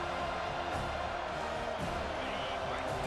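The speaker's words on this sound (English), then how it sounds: "Decibels rising as the crowd gets behind this defense on third down" A stadium crowd in an NCAA college football game, Alabama at Florida State, roars steadily and loudly throughout, cheering the defense on third down.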